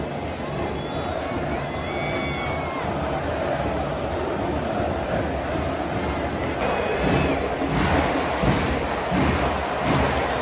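Football supporters singing in a stadium during a Flamengo–Fluminense clash, a dense continuous roar of crowd chanting filling the space, swelling with thumps and louder bursts toward the end.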